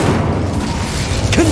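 An Incendio fire spell is cast in Hogwarts Legacy, a loud rumbling fiery boom with a roaring burst that fills the whole short moment, close and heavy.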